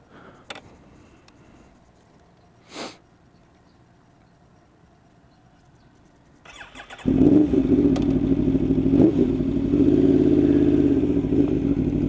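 An Aprilia Tuono V4R motorcycle, set in track mode, sits quiet for several seconds before its engine fires up and settles into a loud, close, steady running roar as the ride begins.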